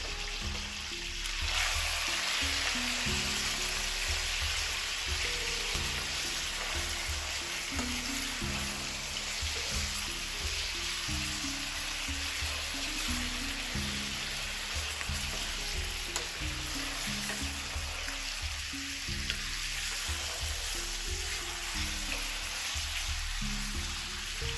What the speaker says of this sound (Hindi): और जब ये गर्म हो जाए तो इसमें आपने कलेजी डाल देनी है।